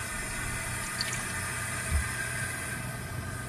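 Warm water runs steadily from a tap into a sink, a continuous broadband splashing stream at close range with a brief louder splash near the middle and no talking.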